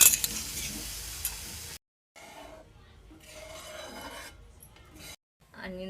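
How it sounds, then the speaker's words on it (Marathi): Gram flour batter for pithla being stirred in a pan, soft scraping and rubbing with a faint sizzle, broken by a couple of short silences and a light clink near the end. "तर आपण आता यामध्ये आपले बॅटर टाकणार आहोत आणि व्यवस्थित हलवून घेणार आहोत"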